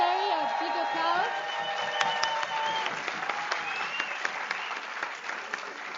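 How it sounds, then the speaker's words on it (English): A room of attendees at an ESN annual general meeting claps steadily for the departing secretary, sustained applause throughout, with a speaker's voice audible over the first part. "A big applause."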